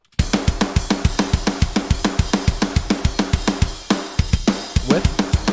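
Unprocessed drum samples for a cover play a quick, even pattern of kick, snare and cymbal hits after a brief silence, drier and thinner, with no talking.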